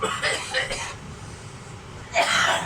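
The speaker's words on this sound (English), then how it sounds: "Whilst coughing my guts up and all that bullshit." A person coughs in a few harsh, raspy bursts, one cluster at the start and another a couple of seconds later, close to the mic with quiet room tone between.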